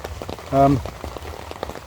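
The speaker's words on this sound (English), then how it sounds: "just before I got back up to the car, the rain started again" Rain falls steadily outdoors in a wood, a close, even patter on surfaces, briefly overlaid by a short tonal voice-like sound.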